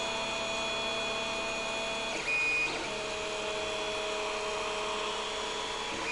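A Creality CR-10S 3D printer runs steadily while printing a Halloween skull, its stepper motors whining in constant tonal hums with a brief shift in pitch midway, continuous and close with no talking.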